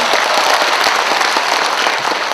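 A rally crowd claps loudly at the launch of a Gwangju citizens' council on military airport relocation, sustained dense applause with distinct sharp hand slaps standing out near the front.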